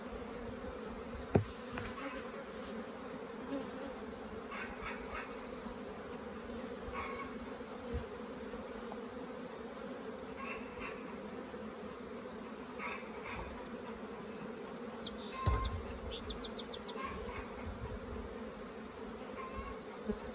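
A dense, steady buzz of honey bees fills the air around an open hive while it is being split, continuous and moderately loud with occasional small knocks and bumps from handling the frames.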